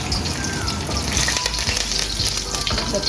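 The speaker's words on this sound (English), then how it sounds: "Okay, the sizzle" Loud sizzling and popping of curry leaves frying in hot ghee, a dense crackle with occasional sharp spits, no voices.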